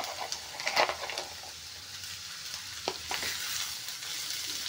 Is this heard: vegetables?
yes